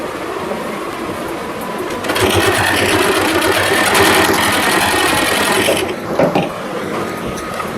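Sewing machine stitching pieces of a poshak for a Radha-Krishna deity pair, a loud, close mechanical clatter that starts after two seconds, runs steadily, then falters near the end.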